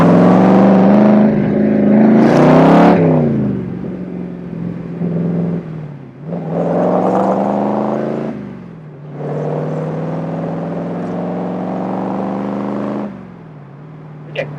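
A Shelby Cobra replica sports car driving, its engine droning loud and close, revving up and easing off through several gear changes with pitch rising and falling in long sweeps.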